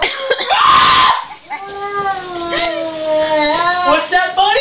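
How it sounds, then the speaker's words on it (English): An angry cat yowls in a long, wavering cry that rises and falls, loud and close, with a harsher screech before it. "That cat's gonna fucking attack him."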